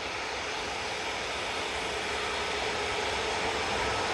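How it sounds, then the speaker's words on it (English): A Hi Fly Airbus A340-300 jet arriving at Manchester Airport gives a steady, broad engine roar and rush of air that holds at an even level from start to finish. "So the A340 is coming in from Islamabad."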